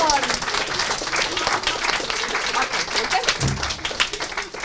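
Audience applause at an improv theatre show, a dense steady patter of many hands clapping for several seconds, fairly close and loud, with a voice briefly cutting in near the end.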